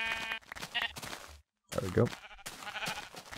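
Sheep bleating in a Minecraft game world, a few short bleats mixed in with someone talking over them and game sounds.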